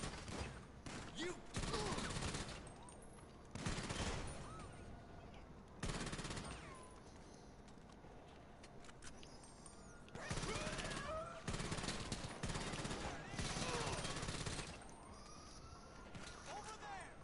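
Bursts of rapid gunfire from a GTA V shootout come in repeated volleys separated by brief lulls, loud and close, with quieter game sounds between.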